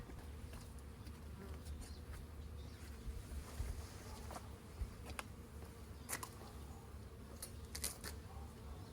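Honeybees buzzing around an opened hive during an amateur backyard inspection, a steady outdoor insect drone with scattered sharper clicks and knocks of hive handling, close and moderately loud, no talking.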